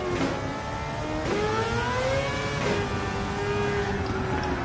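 An engine-swapped RX7 in Gran Turismo 7 runs at full throttle, its engine wailing and revving up in repeated rising pulls, each one cutting back abruptly before climbing again, loud and close.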